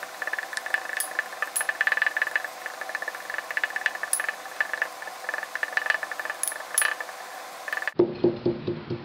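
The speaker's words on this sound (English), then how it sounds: "We just quickly pound it down." Suppository ingredient being quickly pounded into small pieces, a rapid series of sharp, irregular knocks and taps up close, with a duller, lower run of thuds at the very end.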